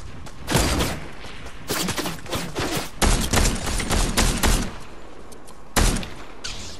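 Rapid bursts of gunfire in Fortnite, a firefight with repeated loud volleys and sharp shots clustered in quick runs, with short pauses between them and no talking.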